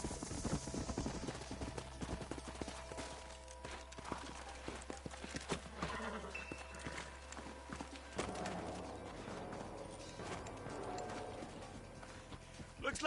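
Horses' hooves clip-clop steadily on the ground in the Western game Red Dead Redemption, close and rhythmic, with a brief whinny, a low engine-like drone and voices talking over it.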